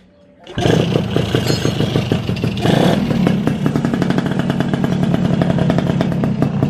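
Suzuki Alfa motorcycle with a standard carburetor and stock ignition starts up and idles close by, a steady, even putter with rapid regular firing pulses that holds smooth and loud throughout.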